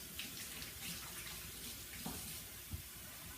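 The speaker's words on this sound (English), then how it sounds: "I'm going to wash my hands right quick" Water runs steadily from a tap as hands are washed, with faint splashing and a couple of small knocks, moderately quiet, no voices.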